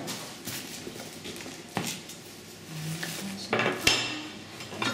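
Ceramic plates and bowls knocking and clinking as they are unpacked and set out in a new home, with sharp irregular clatters and one louder clack near the end, fairly close.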